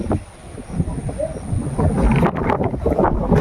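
Wind buffets the microphone in a steady low rumble, gusting stronger toward the end, with faint background noise underneath.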